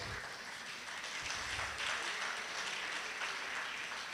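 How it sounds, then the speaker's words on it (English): Quiet, steady applause from an audience honouring tax controllers at a special day event, a soft continuous wash of clapping heard from some distance. "A round of applause for all of them"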